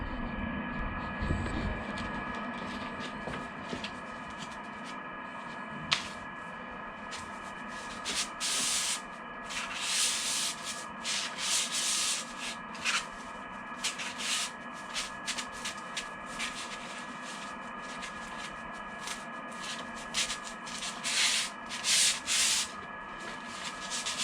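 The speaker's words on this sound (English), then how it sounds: "I'm going to use 180 grit first and then up it from there" Continuous rough rubbing and scraping of 180-grit sandpaper on a wooden rolling pin, in uneven strokes that swell and fade, with a steady hum underneath and no talking.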